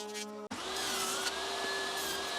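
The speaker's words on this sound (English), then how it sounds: "quickly go do a very light skim over the jointer just to clean up the glued faces." A jointer takes a very light skimming pass over glued-up timber faces for a wood bench, a steady loud machine whine running continuously after a short click at the start.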